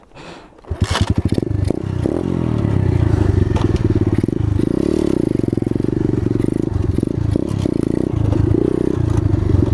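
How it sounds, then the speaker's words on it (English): An Apollo 250cc dirt bike starts up and revs hard on loose dirt, its engine rising into a sustained loud roar with clattering as the rear tire slides, close and alone. "I'm gonna do one little wheelie in this dirt"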